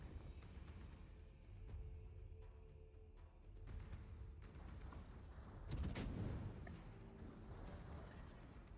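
Naval guns of a Belfast cruiser fire in World of Warships, rolling booms and crackling gunfire over a constant engine and sea rumble, with one louder salvo about two-thirds through.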